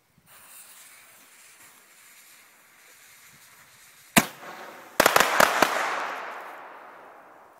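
Firework-powered homemade double-barrel shotgun grenade launcher fires: a steady fizzing hiss builds, then one sharp loud blast, followed by a second burst of several quick cracking bangs and a decaying hiss.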